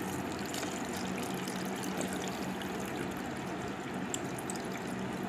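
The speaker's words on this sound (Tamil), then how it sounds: "நான் அந்த தண்ணியை வந்து இதுக்குள்ளே மோட்டருக்குள்ளேயே ஊற்றுறேன் நான்" Water pours from a cup into a mini fountain's motor housing, a steady continuous trickling and splashing stream that runs evenly throughout, close and fairly loud with no talking.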